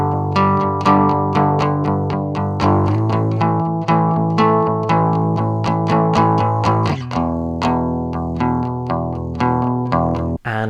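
A crunchy, distorted electric guitar plays a steady strummed rhythm of repeated chords, loud and close, with no voices.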